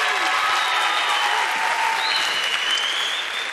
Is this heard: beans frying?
no